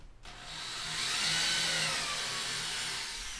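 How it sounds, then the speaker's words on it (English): A power drill bores into a wooden dance pad replica frame, its motor rising into a steady, continuous whine that holds nearby for a few seconds with no talking. "Drill bit goes in real easy."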